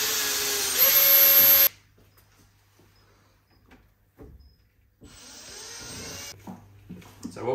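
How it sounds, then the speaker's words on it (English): A power drill drives a screw through two wooden perches inside a green tree python enclosure. The drill whirs loud and steady for under two seconds and stops abruptly. A quieter second burst of whirring follows. "I'm just going to put a screw through the two perches right here"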